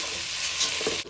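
Smoked streaky bacon and finely chopped onion fry in a pan, a loud, close, continuous sizzle with faint stirring scrapes near the end.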